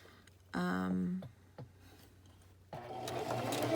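A sewing machine stitching a homemade face mask whirs in a short, fast burst, falls quiet, then starts again in a longer run that builds toward the end.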